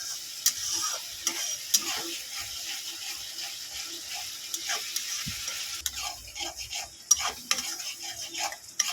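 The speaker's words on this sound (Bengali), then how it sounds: "আমি এবারে পেঁয়াজ বাটাটা দিয়ে দেব পেঁয়াজটাকে ভালো করে এবারে ভাজবো আমি" Onion paste fries in hot oil with spices in a pan for a yogurt rohu fish curry, with a soft continuous sizzle broken by scattered scraping clicks of stirring, fairly quiet and without voices.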